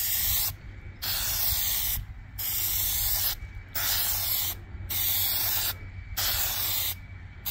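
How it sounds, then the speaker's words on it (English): Plasti Dip aerosol sprays in light coats onto the chrome Chevy bowtie emblem of a 2024 Silverado, six loud close hissing bursts of about a second each, separated by brief gaps. "I'm going to do a very light coat here."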